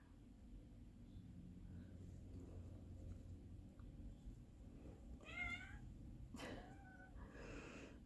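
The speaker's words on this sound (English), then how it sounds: "And now my cat wants back in" A cat meows at a door, wanting back inside, several faint wavering meows in the last few seconds over a low steady background hum.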